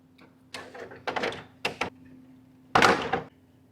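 The plastic front grille of a 2016-2023 Toyota Tacoma is pressed back onto its clips, making a few sharp clicks and knocks in quick bursts, with a faint steady hum behind them.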